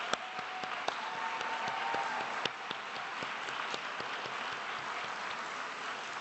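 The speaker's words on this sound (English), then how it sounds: "Please give them a warm round of applause." A warm round of applause for honorees at a Fulbright awards dinner, steady crowd clapping throughout with a few sharper individual claps standing out, moderately loud in a large room.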